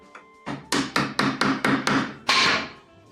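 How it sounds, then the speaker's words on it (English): A series of sharp wooden knocks, seven or eight in quick succession, ending in a louder, longer clatter as a board lands and settles, then quiet. "that's the sound of a board falling"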